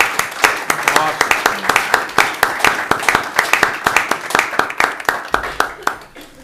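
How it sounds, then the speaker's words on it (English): An audience at a community heroin task force meeting in Brooklyn gives a round of applause to standing kids, distinct individual claps rising to a steady rhythm, near and fairly loud. "Give these kids a round of applause"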